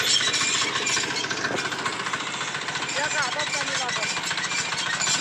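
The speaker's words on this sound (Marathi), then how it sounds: "ते चाकाचा आवाज येतोय लोखंडी चाकाचा" Iron wheels on a makeshift village cart, a machine mounted upside down, roll with a continuous grinding, rattling clatter. It is loud and steady, and voices talk over it.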